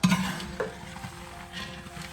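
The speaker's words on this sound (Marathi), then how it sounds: "खाली सारखं हलवत राहायचं असं" Sheer khurma ingredients, dry fruits in ghee, sizzle softly in a pan while being stirred constantly, with a brief scrape of the spoon at the start and a steady low frying hiss.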